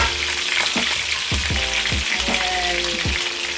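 Mt Lassen trout frying in hot oil in a pan, a loud continuous sizzle and crackle with a few sharp pops, close up and without talk.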